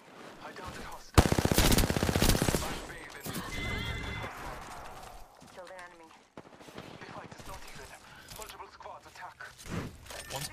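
Gunfire in the battle royale shooter Apex Legends, a loud automatic burst up front followed by scattered shots, game effects and a player talking over the action.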